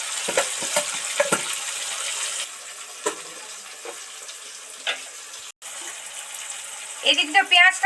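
Onions frying softly in a pan for a spicy sea crab curry, a faint continuous sizzle broken by scattered clicks and scrapes of stirring, with a louder clatter near the end.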